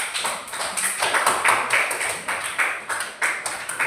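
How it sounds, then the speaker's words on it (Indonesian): Pupils in a classroom clap for a presenting group, producing a run of scattered, overlapping hand claps at moderate loudness with a loose, uneven rhythm. "tepuk tangan dulu untuk kelompok 4."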